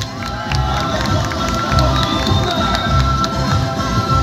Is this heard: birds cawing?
no